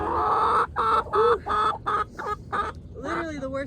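Chickens on a farm cluck in a rapid series of short, close calls, with a slightly longer drawn-out cluck at the end.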